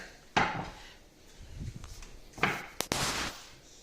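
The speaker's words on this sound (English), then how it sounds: "Now, I'm going to take my platter, bring it here" A serving platter is carried and set down in a kitchen, with a few brief knocks and clatters of dish against a wooden surface, close and fairly quiet, separated by short pauses.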